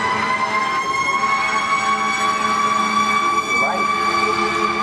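An ambulance siren wails loudly and steadily as the vehicle passes close by, with a pitch dip near the end, while a voice talks faintly underneath.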